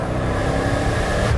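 Ford Fox Body Mustang GT running with its exhaust valve closed, giving a steady, muffled low rumble that stays level and continuous throughout while driving, with no talk over it.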